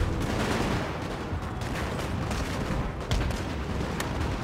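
Musket volleys from Napoleonic line infantry in the strategy game Napoleon: Total War crackle continuously, a dense wash of gunfire with sharper shots breaking through a steady roar of battle.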